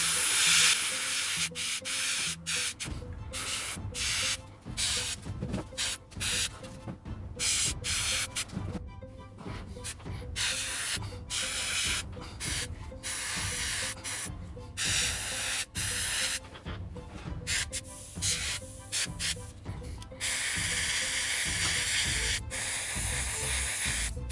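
Airbrush spraying paint onto a Kingdom Death Dragon King miniature, a steady close hiss that runs almost unbroken and pulses only slightly as the trigger eases on and off.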